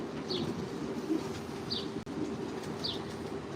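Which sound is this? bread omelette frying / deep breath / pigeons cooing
pigeons cooing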